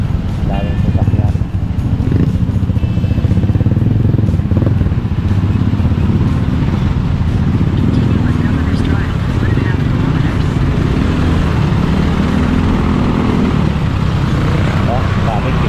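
Road traffic with many cars and motorcycles on a road under construction near Calaca, heard from inside a moving vehicle as a loud, continuous rumbling engine drone, with people talking over it.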